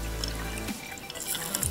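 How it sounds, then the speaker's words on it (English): Water pours and drips into a homemade jellyfish tank, a short soft trickle with splashy drips, faint and close, with no talking. "We'll pour our water in."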